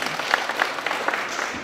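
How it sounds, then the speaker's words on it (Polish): Audience applause at an open armwrestling competition at a sports venue in Wawer, Warsaw: steady, fairly dense clapping from a crowd, moderately loud and continuous, with faint background voices mixed in. "Brawa, brawa."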